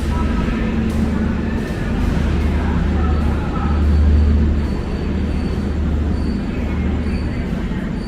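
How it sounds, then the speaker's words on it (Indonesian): A vintage locomotive hauling a passenger train arrives at Bekasi station, rumbling steadily close by, its low engine drone and clattering wheels filling the air, with faint metallic squeals rising above the noise. "Lokomotif vintage membawa kereta api Singasari dari Pasar Senen tujuan Blitar."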